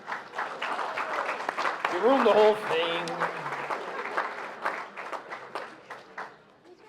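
An audience at a Hall of Fame Living Legends ceremony claps steadily throughout, with a person speaking over the applause.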